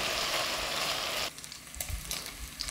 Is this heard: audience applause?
no